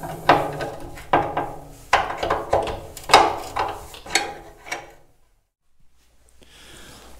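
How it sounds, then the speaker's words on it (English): Machine screws are tightened down on the core and shell of a Caterpillar D2 diesel engine during assembly, giving a series of close, irregular wooden-sounding clicks and rubbing ticks for about five seconds before falling quiet. "we're just going to slowly go around, tighten all this down"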